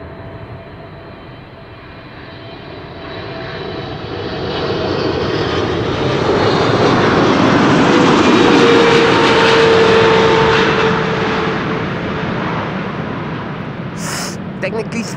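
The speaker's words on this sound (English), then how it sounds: "this is KLM Flight 744. Which is a 777-300 arriving from Lima in Peru" A KLM Boeing 777-300 jet arriving from Lima swells to a loud, broad engine roar that peaks midway and slowly fades, with people talking under the noise.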